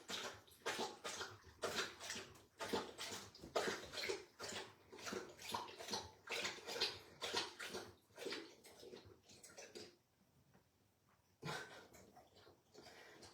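A dog laps steadily from its water bowl indoors, rapid rhythmic slurps repeating close to the microphone, pausing briefly before resuming.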